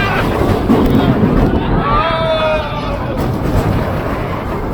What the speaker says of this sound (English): One last terrifying, bone-chilling ride on the Scorpion.